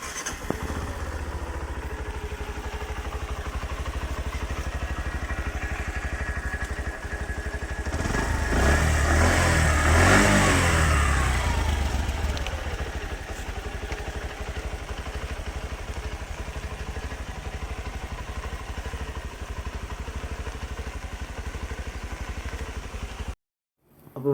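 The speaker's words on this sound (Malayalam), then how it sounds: "ഇനി വണ്ടിയുടെ എൻജിൻ സൗണ്ടും കൂടെ ഒന്ന് നമുക്ക് നോക്കാം." A Bajaj Platina motorcycle engine runs steadily at idle, a close mechanical putter that rises briefly as it is revved, then settles back before cutting off abruptly at the end.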